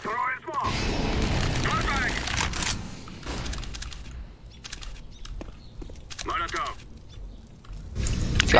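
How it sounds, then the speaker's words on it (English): A flashbang grenade detonates in the game CS:GO with a loud, abrupt boom that cuts through other game sounds and gunfire, with players talking over it throughout. "Flashbang out."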